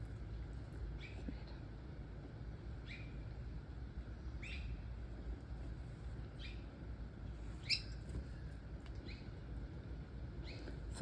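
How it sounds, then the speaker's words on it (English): Birds chirp outdoors after a day of rain, short bright calls repeating about every second or two at moderate distance over a steady low background hum, with no talking. "For all the rain today, the birds are certainly out and about."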